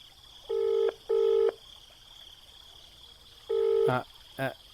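A phone being dialed gives keypad tones: two long beeps in quick succession, a pause, then another long tone and a short burst of brief beeps, all clear against a quiet background.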